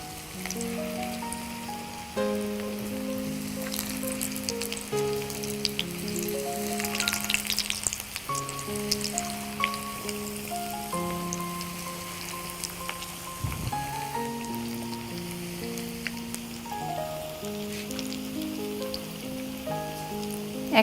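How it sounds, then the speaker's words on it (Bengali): Potato cheese fingers fry in hot oil with a steady, rain-like sizzle and crackle, while a melodic background music track plays throughout. "আমার তেলটাও গরম হয়ে গেছে। আমি এখন এক একটা করে দিয়ে দিই।"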